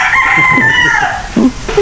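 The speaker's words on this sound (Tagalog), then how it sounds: "Manok." A rooster crows once, loud and close, a long drawn-out call in an orchard garden, with faint clucking and low background noise after it.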